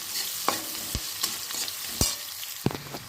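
Onions and green chillies fry in oil in a pan until golden for a village-style chicken fry. A continuous sizzle is punctuated by several sharp spoon scrapes and taps against the pan, with no voices.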